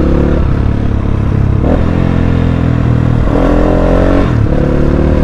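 Crossfire motorcycle ridden steadily, its engine a loud, continuous drone that rises and dips as the revs shift, with occasional clattery mechanical noise and no one speaking.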